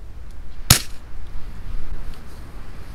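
A single sharp rifle crack from a standard velocity round fired into snow rings out near the start, followed by quiet outdoor background hiss with no further shots.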